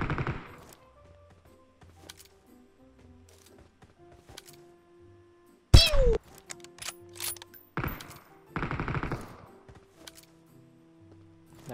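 Gunfire rings out in a mobile battle royale game as sharp, isolated shots and short bursts, with one loud crack near the middle and softer shots spread around it.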